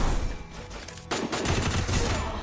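Dense bursts of gunfire crackle through a video game battle royale fight, rapid overlapping shots with a brief lull before a louder barrage resumes, mixed with game ambience.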